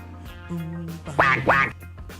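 A duck quack sound effect: a short tone is followed by two loud, nasal quacks in quick succession, heard alone with no talking.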